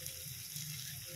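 Watermelon rind pieces hit a hot pan for a Marathi kalingad bhaji, giving a steady, close sizzle and frying hiss that runs evenly through the whole moment with no talk.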